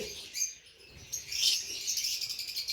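Two young pet bird chicks hatched in a clay pot chirp close by in a series of thin, high, irregular tweets, with a few louder bursts and no voices.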